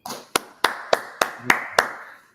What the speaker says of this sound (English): with a Job Brothers round of applause